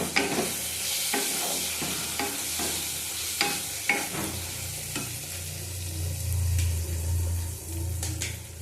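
Tomatoes fry in a pan for a prawn curry, stirred with repeated close scraping clicks over a steady sizzle that swells into a louder, lower hiss partway through.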